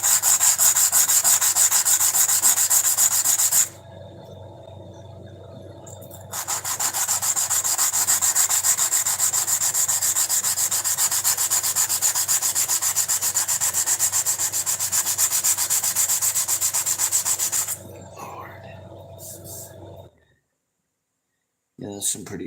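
A small wooden board rubbed back and forth against a leg gives a steady, loud sanding-like scrape that runs almost nonstop, with a short pause early on and a quiet stretch near the end.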